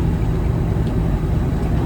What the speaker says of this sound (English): So I'll just park this all green Freightliner up.